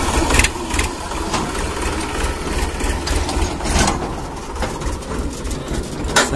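A farm tractor engine runs steadily nearby with a low rumbling drone, and birds call faintly in the background.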